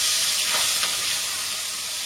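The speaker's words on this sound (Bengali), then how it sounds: "আর এই পাশে মাছটা তো ভাজতে দিয়েছি, আঁচটাকে কমিয়ে রেখেছি" Pabda fish frying in a pan over lowered heat, a steady soft hiss and sizzle with no voices.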